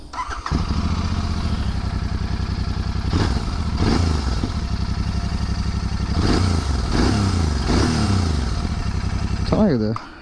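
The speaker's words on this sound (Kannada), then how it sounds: "ಒಂದ್ಸರಿ ಸ್ಟಾಕ್ ಎಕ್ಸಾಸ್ಟ್ ಸೌಂಡ್ ಕೇಳ್ಬೋದು" A Royal Enfield Continental GT 650 motorcycle with stock exhaust idles with a deep, steady thump, revved a few times with sharp rises, close and loud.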